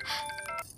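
A phone ringing in a Telugu film scene, a short bright electronic ringtone burst with a few tonal pulses, close and clear, with no voices over it.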